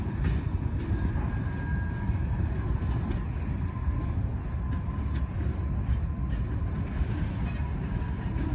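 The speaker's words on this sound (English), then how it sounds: "That's a good sized train too." A long Indiana & Ohio Railway freight train rolls steadily past at a railroad diamond, a continuous loud rumble of wheels and cars with faint rhythmic clicks, heard close and alone without talk.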